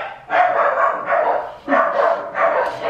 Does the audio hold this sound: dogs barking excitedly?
yes